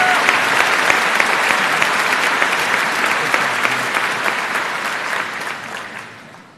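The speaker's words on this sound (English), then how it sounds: "please join me in honoring him with a round of applause." A large graduation crowd at a Wadsworth High School commencement applauds the valedictorian, a dense, sustained roar of clapping that holds steady and then slowly fades toward the end.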